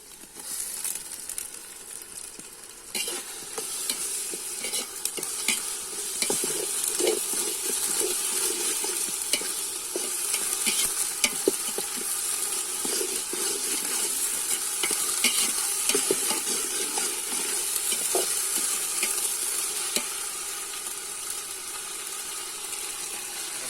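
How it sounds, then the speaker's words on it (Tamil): Sliced onions fry with ginger-garlic paste in a pan for quail biryani, giving a steady, close sizzle throughout with frequent scraping stir strokes. "இப்போ வெங்காயம் வதங்க ஆரம்பிச்சுட்டு இஞ்சி பூண்டு பேஸ்ட்டு"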